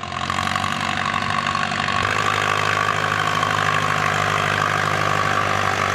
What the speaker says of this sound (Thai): ใช้รถไถใหญ่ลงไปดึงเลยนะครับ